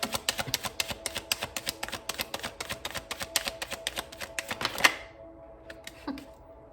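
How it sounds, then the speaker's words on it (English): Tarot cards shuffled by hand in a quick, dense run of crisp riffling snaps for about five seconds, ending in a sharp clack, then a few softer card taps; close and fairly quiet, no talk. "Y'all saw me shuffle these."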